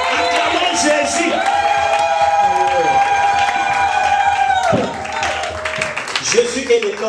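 A congregation at a religious seminar cheers, shouts and claps in acclamation of Jesus, a dense continuous roar of many voices with a sustained voice or musical tone running over it, loud and unbroken for several seconds before breaking up.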